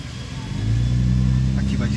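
A 2008 Hyundai Azera's engine hums and builds as the car drives, a low steady drone rising in level partway through with a faint higher whine near the end.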